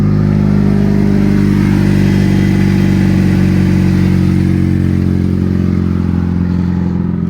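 A car engine, one of the muscle cars and Mustangs, idling and pulling onto a trailer, a loud, steady low rumble that holds close throughout with no talking.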